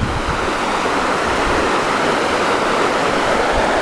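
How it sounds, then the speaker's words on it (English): Water pours over Cotterstock Weir on a river, a loud, constant rushing roar that fills the whole stretch evenly, with no voices. "Well, we've arrived at the delightful Cotterstock Weir."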